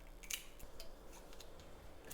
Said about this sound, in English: When do you ever get to use your scissors in the kitchen?